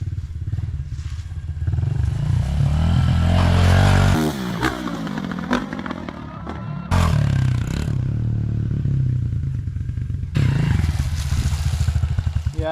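Honda CRF110 and Kawasaki 110RL 110cc dirt bikes ride off-road with a loud, steady four-stroke engine drone, throttle swells and brief drops, and clattering chassis and suspension noise throughout.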